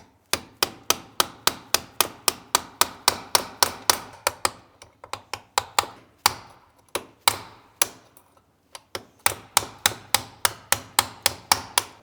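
A hammer strikes a chisel again and again to pry a transmission control circuit board out of its housing. The sharp metallic taps come close together in a fast, steady rhythm, with a few brief pauses.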